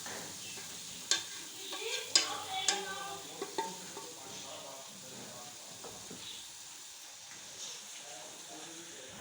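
Chana and moong dal stirred in hot oil in a pan, with a steady sizzle and hiss broken by several sharp scraping stirs early on, then settling into a quieter, even frying sound.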